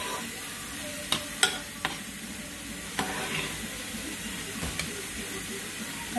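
Onions and bell peppers fry in a pan with a steady, close sizzle and hiss, broken by a few sharp clicks of stirring and scraping, with no talk over it.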